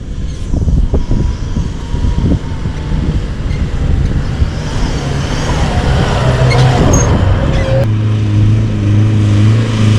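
Engine of a four-wheel drive vehicle, apparently a Land Cruiser, working along a rough bush track near Coral Bay, with steady close engine rumble, wind buffeting, and rattles and bumps from the uneven ground throughout.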